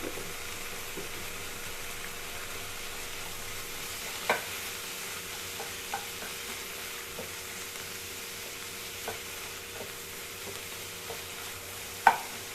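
Black nightshade greens and chillies sauté in a pan for a chutney with a quiet, steady sizzle, punctuated by a few faint taps and a sharper clink near the end.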